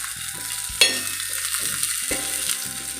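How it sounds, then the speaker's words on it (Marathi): Continuous close sizzling and crackling of green chillies and peanuts roasting on a hot griddle, with occasional scraping stirs and a few louder pops. "छान अशा मिरच्या मस्त खरपूस भाजल्या गेल्या पाहिजेत शेंगदाणे पण छान असे भाजले गेले पाहिजेत"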